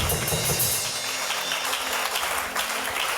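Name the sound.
congregation applauding and acclaiming the Lord in church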